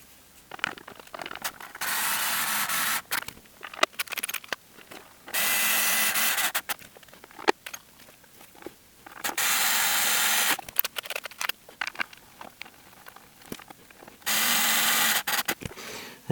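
An electric screwdriver whirs in repeated loud bursts of a few seconds each, driving a bolt into a Pye LV30 radio cabinet, with clicks and handling knocks between runs.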